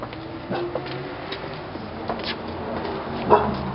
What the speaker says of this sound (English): You got a yapping dog over